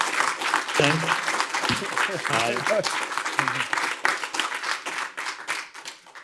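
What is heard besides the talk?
audience applause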